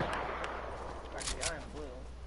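Gunfire from players shooting in the video game Fortnite, a few short sharp bursts scattered across the clip against steady game background, with a person speaking over it.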